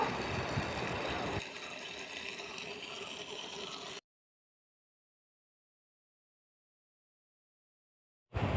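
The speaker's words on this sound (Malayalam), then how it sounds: "കഴുകാനായിട്ട് നമുക്ക് വെള്ളം ഒഴിച്ചു കൊടുക്കാം" Water gushes and splashes steadily over dried Kashmiri chillies being washed, a strong pour that eases slightly partway, then stops abruptly into silence before a brief burst returns at the end.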